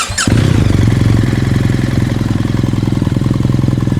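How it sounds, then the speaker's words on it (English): A BMW R1300GSA motorcycle with a new exhaust starts up and then idles loud and close, keeping a deep, steady, throbbing pulse with no talking over it. "Let's listen to this exhaust."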